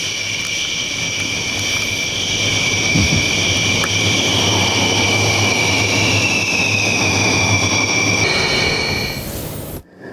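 A low-flying military aircraft, part of a large formation flypast, gives a loud, sustained roar with a piercing high whine that holds steady, then fades near the end.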